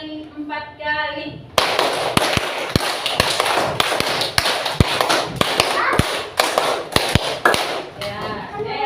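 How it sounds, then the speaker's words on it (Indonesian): A classroom of children claps hands in sharp, rhythmic rounds, loud and close, following a teacher's spoken lead at the start, with voices mixed in among the claps. "tepuk 5 kali, 4 kali."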